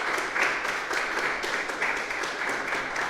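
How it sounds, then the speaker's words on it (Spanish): A church congregation applauding during a sermon, dense steady clapping from many hands filling the whole stretch at moderate loudness. "Dale un aplauso a Dios"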